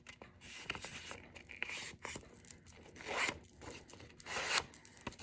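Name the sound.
folding paper pages together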